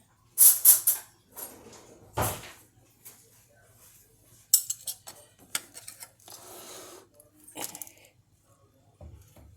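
A knife and a spoon being picked up and handled in a home kitchen, giving scattered light metallic clinks and taps, close by with quiet gaps between them.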